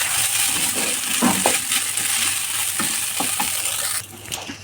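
Home-cooked fried rice being stirred and mixed in a pan, with a steady background sizzle broken by scattered scraping clinks of a spoon against metal, fairly close and with no talking.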